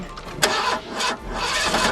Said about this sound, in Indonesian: Saat Gray menyalakan mobil, mobilnya mogok.